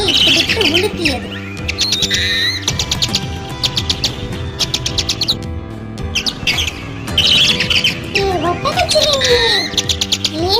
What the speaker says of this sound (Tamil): மரக்கிளையில் உள்ள கூட்டில் இருந்த தூக்கணாங்குருவி குஞ்சுகள் சத்தமிட்டுக் கொண்டிருப்பதை